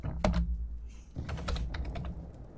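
A computer keyboard is typed on during a Counter-Strike game, with a few sharp, close key clicks and a short patter of quicker keystrokes, and no voices.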